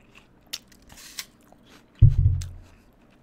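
A single hard, crunchy bite into a Jazz apple, loud and close, after a few faint clicks and rustles.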